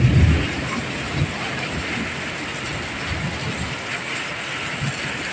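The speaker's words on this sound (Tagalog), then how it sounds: "Abangan na lang po natin kung anong oras pipila po itong ulan na to." Heavy rain pours down in a steady, dense hiss that stays close and constant, opening with a low thud.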